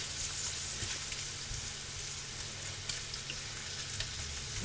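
Bacon bits fry in a pan with a steady, dense sizzle and crackle that holds close and even throughout, with no voices.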